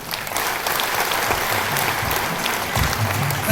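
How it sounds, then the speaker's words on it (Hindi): An audience bursts into sustained, dense applause at a business-plan gathering, many hands clapping steadily and loudly for several seconds with no pause. "तो जबरदस्त तालियों के बीच में सुफियान"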